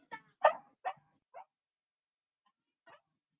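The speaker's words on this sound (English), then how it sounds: "the dogs are barking" Dogs barking nearby in a series of short, sharp barks and yips, four quick ones close together, then a pause and one softer bark, with no talk over them.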